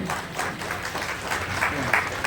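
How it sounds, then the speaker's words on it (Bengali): Applause from a crowd at an honouring ceremony for pilgrims and monks, a dense, steady wash of clapping that carries evenly throughout, close and unbroken. "সবাই হাততালি দিন"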